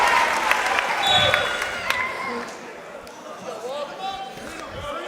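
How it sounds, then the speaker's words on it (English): A lively crowd at a high school wrestling match against Neshaminy, with steady applause, cheering and chatter that swell early and then ease slightly. Spectator voices carry throughout, with scattered claps and shouts. "Crowd is fired up for this match."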